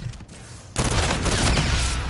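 Rapid hip-fire gunshots in Call of Duty: Infinite Warfare Gun Game break out as a dense, loud burst after a quieter opening, then sustain as continuous gunfire to the end.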